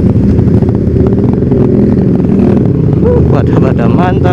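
Several motorcycles with loud aftermarket exhausts, including a Yamaha R25 and a Honda CBR250, ride past in a touring convoy. Their engines make a steady, close roar with rising revs near the end, and someone talks over it.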